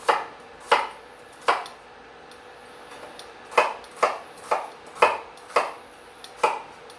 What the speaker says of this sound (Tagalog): mag-chop na tayo ng onions